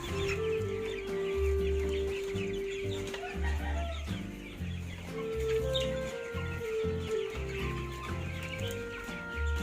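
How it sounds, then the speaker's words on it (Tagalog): Large broiler chickens penned apart from the smaller birds cluck and murmur steadily at close range, layered calls overlapping in a continuous flock chorus with no voices. "Ito ang ating binukod na malalaking manok."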